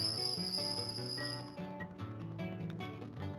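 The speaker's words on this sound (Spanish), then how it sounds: "los sonidos de las chicharras empezaron a sonar" Cicadas chirp at night in a steady, shrill, continuous drone that holds at a moderate, fairly faint level, with no voices.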